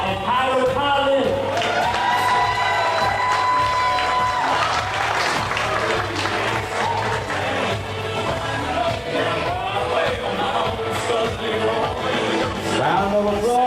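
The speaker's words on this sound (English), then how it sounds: "Put your hands together for Payton Scott and Tyler Collins." Wedding guests at a reception at Eagle Manor, New Jersey, applaud and cheer in a loud, sustained wave of clapping and whoops that fills the room without a break, with tonal sound running underneath.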